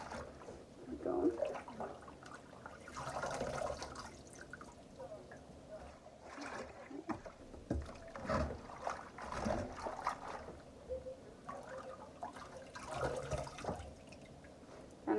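Collard greens are lifted from hot water into cold water in a home kitchen, giving faint drips, splashes and trickles alongside a person talking quietly.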